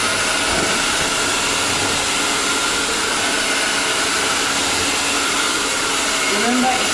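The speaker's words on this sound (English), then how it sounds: "I'll be using my hand dryer to achieve that and I'll need to also turn the heat on" A hand-held hair dryer blows steadily on its heat setting while styling a bridal hairstyle with X-Pression braiding hair, a loud continuous whoosh filling the whole stretch with no break.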